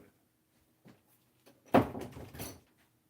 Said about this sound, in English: I'm gonna close that door.